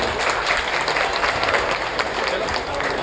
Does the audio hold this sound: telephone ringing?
no